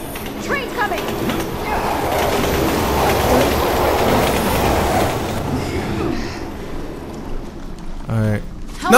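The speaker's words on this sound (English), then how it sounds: "Train's coming." A train rumbles and clatters in on rails in a city escape scene of the Resident Evil 6 video game, a loud continuous roar with wheel noise that fades toward the end, followed by a brief voice.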